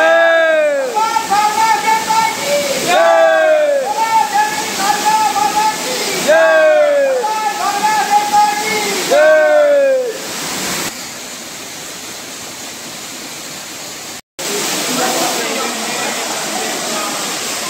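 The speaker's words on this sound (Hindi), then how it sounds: "ये पत्थर पर पानी टकराता है" Water crashes onto rocks at a waterfall at a Shiva shrine site, a loud continuous rushing roar, with a voice talking over the first part before the water is heard alone.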